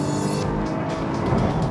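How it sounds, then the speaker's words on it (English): A Lotus Evora S engine blips its revs to match a downshift while braking for a corner. A loud, close, throaty drone rises and falls through the short stretch. "So as I start to brake, rev matching occurs, as you can hear,"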